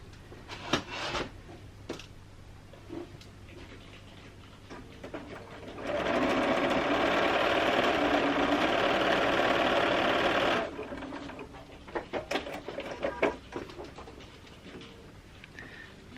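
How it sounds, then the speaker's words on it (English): Bernina sewing machine stitching quilt pieces, a steady loud whirring run of about five seconds in the middle, with quieter handling clicks and fabric rustling before and after. "lining it up like that, and then I will sew it"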